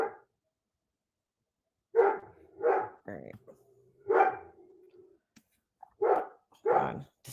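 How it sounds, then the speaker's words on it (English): A dog barks in a series of sharp, separate barks, close and loud, with brief silences between them and a person speaking briefly among the barks. "This dog is killing me."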